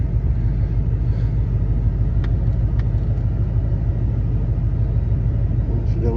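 A 1937 Ford hot rod engine rumbles low and steady as the car rolls, a continuous loud drone throughout with a few faint clicks and people talking in the background.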